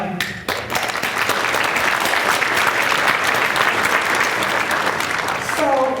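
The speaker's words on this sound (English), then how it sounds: "I want to give you a big hand, a round of applause" A large crowd applauds loudly and steadily, dense clapping filling the whole stretch before tapering slightly at the end.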